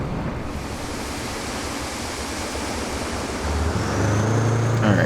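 Sand pours steadily from a hauling truck in the game RoadCraft, a dense continuous rushing hiss that swells louder toward the end as an engine drone rises underneath.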